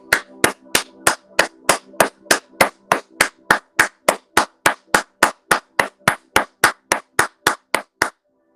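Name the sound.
hand clapping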